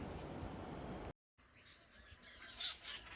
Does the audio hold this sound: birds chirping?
yes